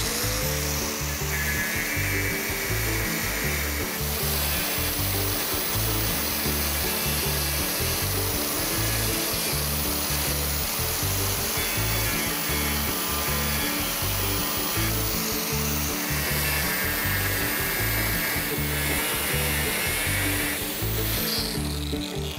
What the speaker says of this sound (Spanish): las vamos a cepillar, a lijar